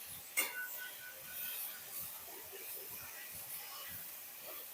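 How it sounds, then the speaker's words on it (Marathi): Cauliflower florets fry in hot oil with a faint, steady hiss and light crackle, plus one brief sharp spatter near the start. "थोडंसं तेल तापलं की आपल्याला त्याच्यामध्ये गोबी ही फ्राय करून घ्यायची आहे तेल तापलेलं आहे चांगल्या प्रकारे फ्राय करायचं आहे"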